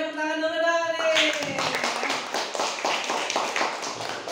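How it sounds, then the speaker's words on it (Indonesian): After a brief tone, an audience at a talk on MICE events bursts into hand clapping. The claps come dense and even and carry on steadily to the end. "Oke, tepuk tangan dulu dong nih."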